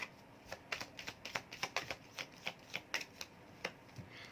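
Tarot cards being shuffled by hand, a quick uneven run of crisp riffling snaps and flicks, close and fairly quiet, with no talking.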